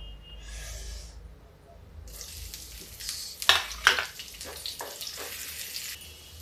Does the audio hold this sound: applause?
no